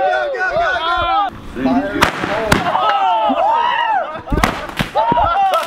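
Fireworks lit and shot at each other in a backyard battle, with loud pops and bangs and whistling, whining rockets overlapping throughout, mixed with shouting voices close by.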